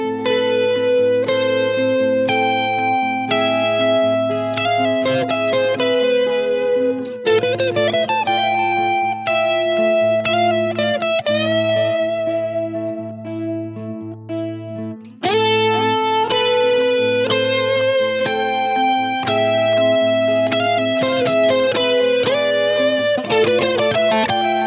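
Electric guitar played through a Line 6 Helix Stadium multi-effects preset, loud and close with distortion, chorus and echo, a repeating riff with a sustained middle section before the riff returns.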